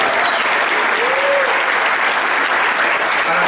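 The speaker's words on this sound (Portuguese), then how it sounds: "Uma forte salva de palmas aos diamantes da Rinode Brasil." A large seminar audience in Fortaleza, Brazil, gives loud, dense, continuous applause to honored Rinode Brasil members, filling the hall evenly for the whole stretch.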